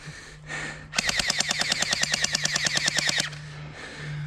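A paintball gun fires a rapid full-auto burst of about twenty evenly spaced sharp pops, close and loud, framed by single shots and a quiet pause.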